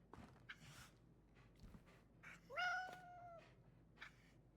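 A cat in the Indiana Jones and the Great Circle video game lets out a single clear, drawn-out meow midway through, amid faint ambient game sounds and soft footsteps.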